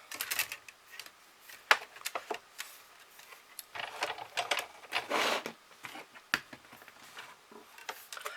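A hand-cranked Big Shot die-cutting machine clatters close by, its irregular mechanical clicks and ratcheting coming in uneven bursts, with no voices.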